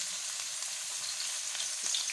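Chopped onion fries in oil as a tempering for sarson ka saag, a soft, bright, hissing sizzle that stays even and fairly faint from start to finish with no voices.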